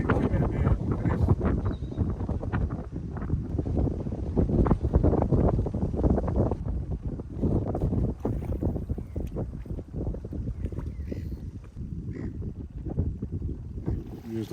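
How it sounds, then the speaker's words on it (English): Strong wind buffets an outdoor fishing spot on the water, a loud, steady roaring rush with gusty swells that batter the microphone throughout. "That wind is getting super nasty now."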